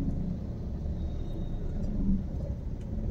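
A car's engine rumbles steadily during a first-day driving lesson, a low continuous hum inside the cabin with no talk over it.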